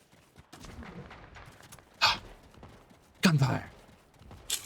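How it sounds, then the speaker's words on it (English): Gunfire in an online shooter game, a few sharp distant shots cracking out at irregular moments over a quiet background. "Gunfire!"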